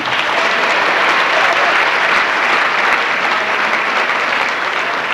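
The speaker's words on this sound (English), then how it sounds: "Let's give them a great round of applause." A crowd at a church bachelor ball gives the event chairmen a loud, dense round of applause, sustained and even for the whole stretch.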